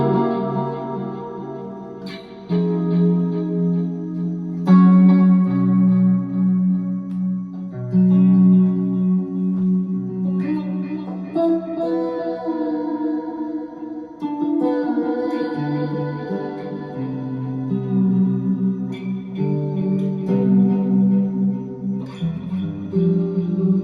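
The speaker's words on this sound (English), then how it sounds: "This is like delay, reverb, vibrato, and my always on drive that I mentioned earlier." Electric guitar played through delay, reverb, vibrato and an always-on drive pedal, spacey sustained chords and notes ringing out with echoing repeats and a wavering shimmer, loud and alone for a long stretch.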